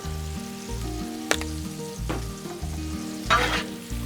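Sausage, peppers and onions sizzle steadily on a Blackstone griddle with a seasoning shake, scraping stirs through the frying, a sharp spatula tap partway and a brighter burst of sizzle near the end.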